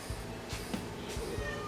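A pet cat meows in a garage where a VW Beetle is being worked on, the calls faint and brief against a steady background hum, with no voices.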